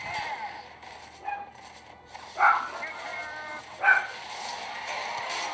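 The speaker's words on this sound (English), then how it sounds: "That's my dog." A dog barks a few times in short bursts beneath ongoing game-commentary talk and mobile game sounds from Clash Royale.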